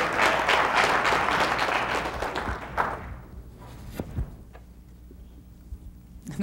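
A crowd at a 2006 Albuquerque sporting match claps loudly and densely, then the applause fades away, leaving a few scattered thuds and taps.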